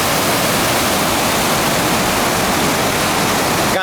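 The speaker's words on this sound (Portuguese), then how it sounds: "Bonito o nome da cachoeira, hein? Cachoeira do Paraíso." Cachoeira do Paraíso waterfall in the Boa Família district of Minas Gerais pours with a loud, steady, full-bodied roar that holds unbroken throughout, with no voices over it.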